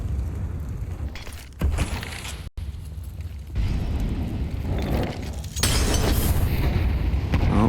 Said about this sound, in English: Should be a nice little nade stack here for Complexity over onto the pillar.